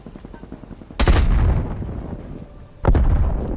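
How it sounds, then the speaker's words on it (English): Two heavy grenade blasts go off in a Call of Duty match, the first about a second in and the second near the end, each a sudden loud broadband boom that lingers under ongoing battlefield noise. "he's throwing random grenades"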